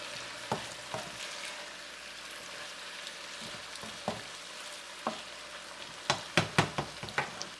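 Green beans and shiitake mushrooms stir-fry in a pan, a soft steady sizzle punctuated by sharp utensil scrapes and taps that grow quicker toward the end, close and unaccompanied by voices.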